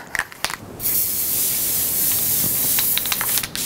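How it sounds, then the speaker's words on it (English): Spray adhesive hissing from an aerosol can onto paper for a thrift-store bar cart makeover, a few short clicks and bursts then one long close steady spray lasting several seconds, no talking. "we're gonna spray this first, and then we'll spray the board"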